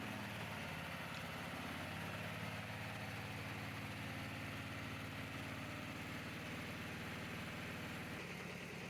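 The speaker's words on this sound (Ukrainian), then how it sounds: "Пробуємо, як буде воно, як воно крутиться полосями." A homemade rotary tiller with strip blades on a gearbox and cardan shaft runs steadily at a low, even idle-like drone, moderately near and continuous, with no talking.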